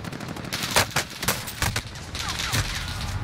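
Bursts of gunfire in Warzone, a multiplayer trios match, with several sharp close shots followed by sustained rattling fire, loud and continuous with no talk.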